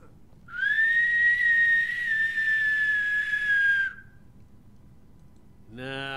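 A long, clear tonal whistle in the video game Skyrim holds a steady pitch for about three seconds, loud and close, followed by silence and then a short buzzy burst.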